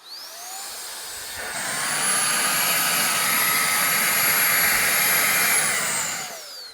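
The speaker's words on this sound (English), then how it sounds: "8 volt cordless hand vac." An 8-volt cordless hand vacuum runs on its first speed setting, giving a steady, loud whir that ramps up after a second and a half, holds evenly, then winds down near the end with no talking.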